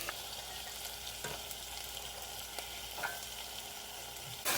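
Peas and potatoes fry in a pan, giving a continuous crackling sizzle with a few soft clinks and scrapes of stirring, close and fairly quiet, with no voices.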